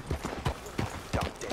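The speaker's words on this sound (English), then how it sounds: "All I did was get on the horse." A horse's hooves clip-clop in quick, uneven beats on the ground in Red Dead Redemption 2, close and clear, with no talking.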